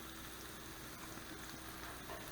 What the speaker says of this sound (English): some mushrooms we're frying up